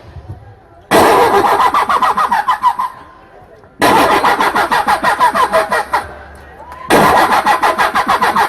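A voice mimics a car engine starting after a push, with three loud bursts of sputtering, chugging revs separated by brief pauses, close and strong.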